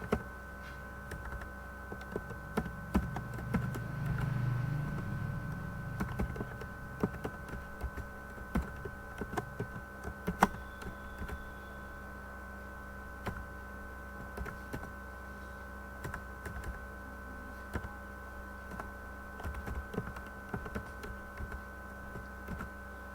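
Keys clatter on a computer keyboard while Python code is written, a quiet, irregular run of soft clicks and taps over a steady low electrical hum, with small bursts of quicker typing.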